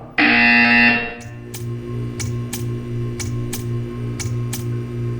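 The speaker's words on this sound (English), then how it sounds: "You will hear a buzzer." A loud, harsh buzzer in the video game Portal 2 sounds for about a second, followed by a series of regular sharp ticks over a low steady hum.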